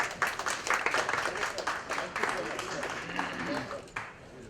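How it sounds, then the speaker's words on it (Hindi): An audience applauds at a pre-birthday bash for actor Annu Kapoor, with a dense wash of clapping that fades near the end, with voices in the background. "मैं चाहता हूं कि एक बार जोरदार तालियां हो जाए।"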